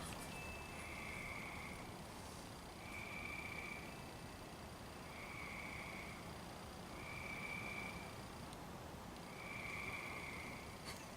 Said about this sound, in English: I just thought I would let you hear the tree frogs for a few minutes.